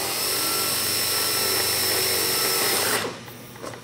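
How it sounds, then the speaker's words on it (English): Power drill boring holes in aluminum sheet metal during an A&P sheet metal class project, a steady whining drone held for about three seconds before spinning down and stopping, close and loud. "we're going to Cleco these in place as we drill our holes"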